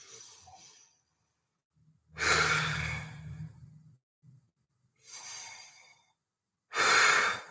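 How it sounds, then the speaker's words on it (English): A person takes slow, deep breaths during a rib-focused breathing exercise in a workshop: three or four loud, drawn-out inhales and exhales, close up, separated by silent pauses. "we just breathe into the intercostals"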